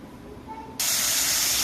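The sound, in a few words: fish frying in oil with salt and turmeric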